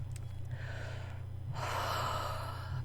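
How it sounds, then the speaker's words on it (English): Someone taking a deep breath during a tapping session, a slow audible inhale followed by a longer, louder exhale over a low steady hum. "Take a deep breath or two."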